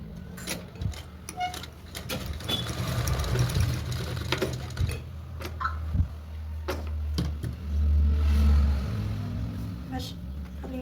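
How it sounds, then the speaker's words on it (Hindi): A sewing machine stitches a katori-cut blouse at a slow, steady pace, its low motor hum running nearly continuously with light ticking, and a voice is faintly present at times. "एक किनारे से सिलाई लगाएंगे और धीरे धीरे मशीन को चलाएंगे"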